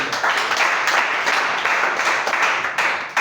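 A church congregation claps and cheers in praise for the Lord, a dense, loud burst of applause that swells in waves and continues throughout the short moment.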